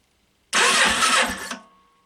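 Yamaha Virago XV500 motorcycle engine, in a cafe racer build, cranking and trying to start: a loud, dense mechanical churn of about a second that stops abruptly and fades, with no steady idle following.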